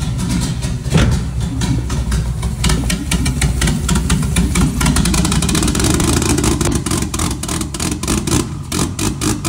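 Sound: turbo 2JZ engine idling in Nissan S14

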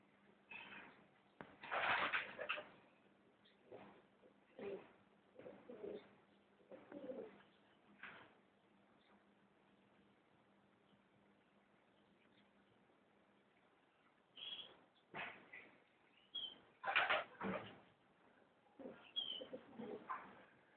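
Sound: white pigeons cooing

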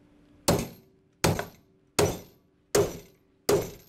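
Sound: hammer striking steel plates of Flexco rivet hinged fastener

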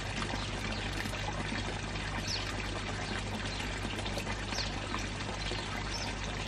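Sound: pouring water out of a fish bowl

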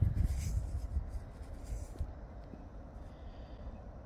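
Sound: metal coin being rubbed with fingers

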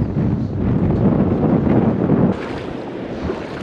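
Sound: strong wind on a reef

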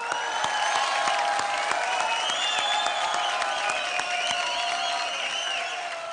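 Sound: studio audience applause

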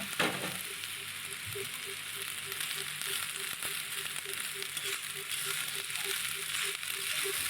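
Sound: cooked rice added to a wok and frying, Chinese fried rice

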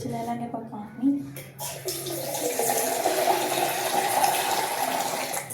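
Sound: water added to dough for methi parathas

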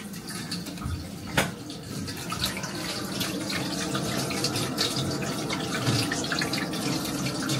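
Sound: water running or leaking somewhere in the house

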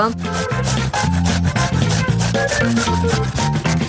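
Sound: grating cheese

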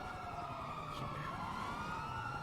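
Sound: police car sirens in a GTA role-play video game

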